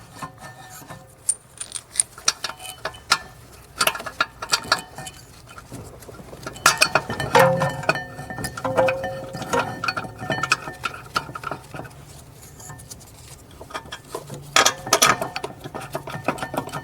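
A ratchet works the rear caliper bracket bolts on a Mercedes S550, with quick clicking ratchet strokes in irregular bursts, metallic clinks and scraping, close up and fairly quiet.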